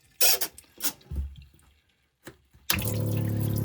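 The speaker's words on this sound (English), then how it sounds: "so that should drain straight out in the ocean." Seawater gushes out through an opened sea cock on a boat, a loud, steady rush that bursts in after a few handling clunks and knocks, with no one talking.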